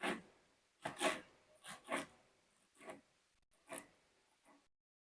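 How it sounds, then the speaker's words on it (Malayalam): Knife chopping fresh coriander leaves on a board, a handful of soft, separate cuts and scrapes at an uneven pace, close and quiet, with no talking. "പിന്നെ മല്ലിയെല്ലാം നമുക്ക് കട്ട് ചെയ്തിട്ട് എടുക്കാം"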